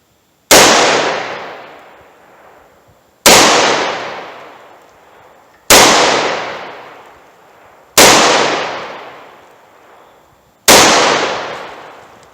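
Five sharp, loud Taurus 605 revolver shots at a range, evenly spaced about two and a half seconds apart, each crack followed by a short decaying echo.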